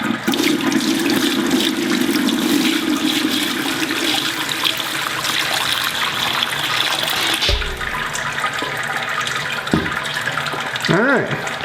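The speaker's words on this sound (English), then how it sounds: "It's just running the water through till I run out of water." Steady running water pours and splashes continuously, a constant liquid rush close by with a few brief knocks near the end, as 168-degree sparge water runs through grain in a Grainfather brewing system.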